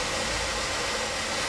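Hair dryer on high fan and low heat, powered from a Bluetti AC200 lithium power station, gives a steady, close broadband whoosh with a low motor rumble, continuous throughout with no talking.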